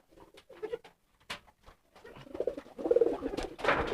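Pigeons in courtship display cooing in soft, low bursts, with scattered rustling and shuffling, growing busier and louder toward the end.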